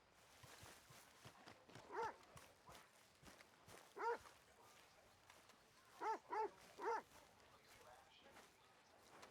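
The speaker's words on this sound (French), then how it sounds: "Oh, le chien, il en peut plus." A dog in a Red Dead Redemption-style video game yelps and barks in short bursts, four clear calls spread through the clip amid quieter game ambience and footsteps.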